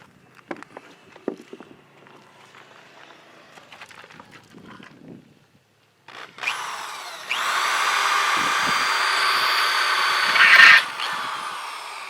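Faint clattering and handling noises, then a power drill whines loudly and steadily for several seconds drilling wood before stopping.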